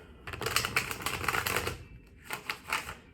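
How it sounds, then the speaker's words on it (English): A deck of tarot cards being shuffled up close, a quick run of crisp riffling flutters followed by a brief pause and two shorter bursts, with no talking. "I want to shuffle these one more time."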